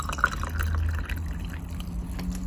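Warm water is poured into a drinking glass, a close liquid trickle and splash running for a couple of seconds over a low background hum, with no talk.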